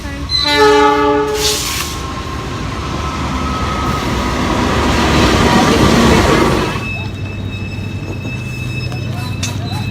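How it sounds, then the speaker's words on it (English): A train horn blares in stacked tones as a passenger train rolls into a station in Java, Indonesia, with loud rumbling and rushing noise, then settles into a steady hum with a faint whine. "I think our train's coming."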